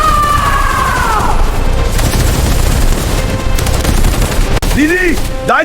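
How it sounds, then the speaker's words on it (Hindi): Dramatized gunfire bursts in a bandit drama, loud rapid volleys and booms layered with shouting voices and a whistling, siren-like tone, the shots crowding the whole stretch. "गोलियां चल रही हैं।"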